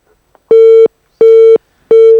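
Telephone busy signal on a call-in line of a television morning show after the caller hangs up: three loud, steady, identical beeps with even short gaps, clean and alone with no talk.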